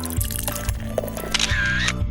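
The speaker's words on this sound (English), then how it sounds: "We'll drop in some soda for bubbles and pop." Soda is splashed into a non-alcoholic almond sour, a brief pour and fizzy splash up close with small clicks and liquid sounds.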